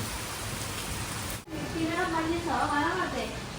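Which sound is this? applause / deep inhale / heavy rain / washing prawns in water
heavy rain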